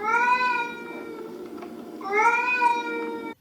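Peppa Pig meows like a witch's cat at a Halloween party, two drawn-out, tuneful meows from a voice imitating a cat, close and clear.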